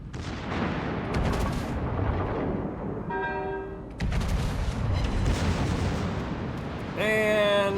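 Ship weapon salvos and a vessel set on fire in the naval game Volron, heavy booming gunfire volleys and rumbling blasts rolling one after another, loud and close, with tonal alert chimes cutting in between bursts.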